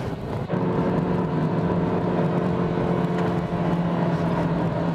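A turbocharged BMW X3 engine revs with a thin, whirring drone, loud and close, holding a steady hum after a brief rise at the start, with no talking.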